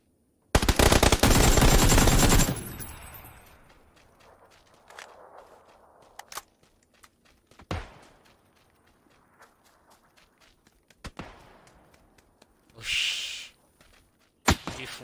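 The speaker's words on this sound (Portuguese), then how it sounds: "Estão atirando no defunto aí." Gunfire in the video game PUBG, a loud close burst of rapid automatic shots for about two seconds, followed by quieter footsteps, scattered single shots and thuds.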